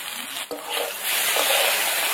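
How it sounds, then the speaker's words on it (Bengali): Okra frying in a kadai with turmeric and salt, a steady broadband sizzle that swells after a brief stir-like clatter and holds loud and continuous to the end, no voices. "ঢেঁড়সগুলোকে ভেজে নিতে হবে আগে লাল লাল করে"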